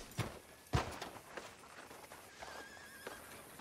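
Soft hoofbeats of a horse in Red Dead Redemption clop a few times at an uneven pace, with a louder thud early on, over a faint ambient background.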